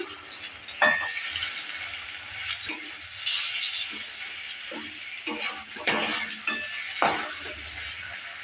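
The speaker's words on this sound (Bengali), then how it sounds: "ঢাকনাটা এবার তুলে নিচ্ছি তুলে নেওয়ার পর আবারও নেড়ে চেড়ে নিচ্ছি" Mashed sweet pumpkin for vorta frying in a pan, with a soft steady sizzle under repeated scraping stirs and occasional utensil clinks against the pan, no talking.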